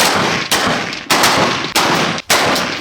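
Four sharp gunshots at shooting practice with paratroopers ring out about every half second, each a loud broadband crack with a short decaying tail, no voices.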